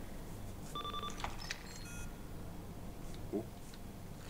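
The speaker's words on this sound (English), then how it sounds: "Hear the beeping and clicking." A switch in the horror game Cry of Fear gives off a quick series of electronic beeps and clicks, quiet and brief, then fades into low ambient hum with a faint later click.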